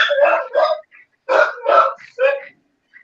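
A human voice imitates a Chihuahua barking, giving five short, loud yapping bursts in quick pairs with brief gaps, close up and alone.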